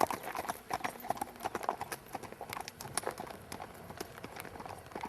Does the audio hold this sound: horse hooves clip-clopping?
yes